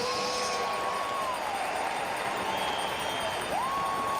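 Football crowd at Tim Hortons Field in Hamilton roaring after a Tiger-Cats touchdown against Winnipeg, a dense, steady wall of cheering and applause through the whole stretch with a whistle-like tone sweeping above it.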